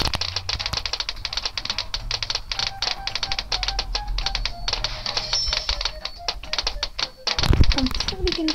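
Rapid, irregular clicking taps on a touchscreen device during a match of Bloons TD Battles, close and prominent, running almost continuously over a steady low background hum.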